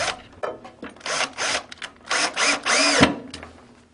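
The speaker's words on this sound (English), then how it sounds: "install this and permanently affix it with the screws provided" A power driver drives screws into a wood pullout pantry shelf in several short, close whirring bursts of varying length, separated by brief pauses, ending with a louder sustained run.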